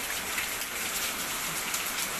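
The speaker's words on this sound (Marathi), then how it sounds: "इतकं जोरात पाऊस आलाय, भयानक पाऊस" Heavy rain pours down steadily in a downpour during a thunderstorm, a dense continuous hiss with scattered drops and splashes, loud and even throughout with no voices.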